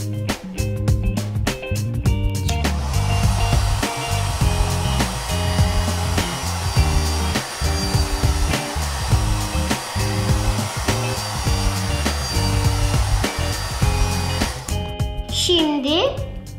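A toy hair dryer whirs steadily as it dries a Barbie doll's hair during a hairdresser play session, a loud continuous buzzing drone with a voice and other sounds layered on top before it stops near the end.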